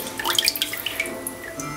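Water drips and trickles off a Samsung Galaxy S III smartphone just lifted out of water, scattered small splashes and patters at close range with no voices.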